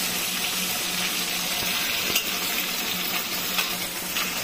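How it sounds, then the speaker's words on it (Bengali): Hilsa fish heads frying in a pan give a continuous, moderately loud sizzle with faint stirring scrapes and a few small clinks. No voices are heard. "মাথাগুলো প্রায় ভাজা হয়ে এসছে, আর একটু হবে।"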